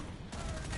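A big grenade blast in a team shooter game, a loud, dense burst that swells suddenly and holds, with gunfire textures layered in, alone and without talk.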